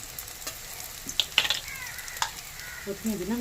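Mutton frying in a pan as ground spices go in, a soft low sizzle broken by a few sharp clinks and scrapes of a spoon, then a brief bubbling swell near the end.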